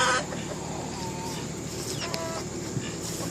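Chickens and a rooster on a farm give short clucks and calls throughout, close and moderately loud over a steady outdoor background.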